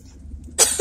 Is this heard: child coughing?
yes